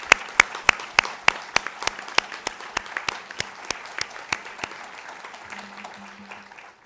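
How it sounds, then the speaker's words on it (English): One person claps steadily and alone at a convocation as an award recipient is recognized. The claps are sharp, evenly spaced and slowly fade in a quiet hall, with a faint murmur near the end. "And if we don't see her, let's clap anyway."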